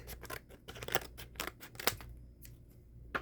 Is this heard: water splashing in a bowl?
no